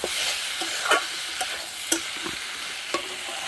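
Spice masala sizzles steadily in a hot pan while a spoon scrapes and stirs it in short, irregular strokes, close and fairly loud, with no talking.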